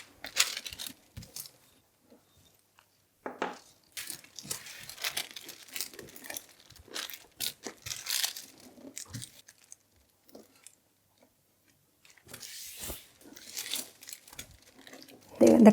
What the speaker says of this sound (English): A little bit of tape on the other side